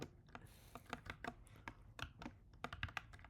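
Computer keyboard typing, a quick irregular run of key clicks close by, with brief bursts and pauses while a program's input is entered.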